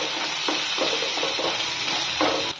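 Green chilli pieces sizzle steadily in a hot pan on a rainy day, a loud continuous fry with a few soft scrapes and knocks of stirring breaking through.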